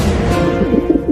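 A cartoon pigeon coos softly in a few low, throaty warbles, close by, with no voices.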